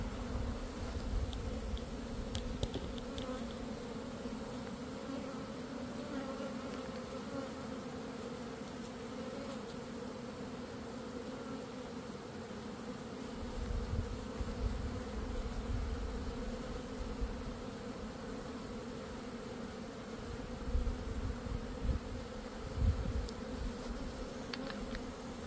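Honey bees drone steadily around an opened beehive being set up as a queen nursery, a continuous dense buzz with occasional closer swells of individual bees throughout.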